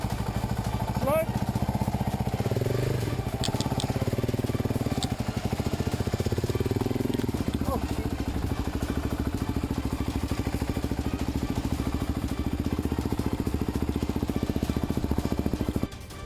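An enduro dirt bike climbs a hill off-road, its mid-pitched engine droning steadily and straining for most of the stretch, with voices heard along the way.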